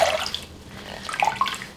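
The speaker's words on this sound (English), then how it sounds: "gently lift out the wool and squeeze out the excess water" Dyed wool roving is squeezed by hand to press out excess water, giving short, close splashy trickles and drips that rise and fall over under two seconds.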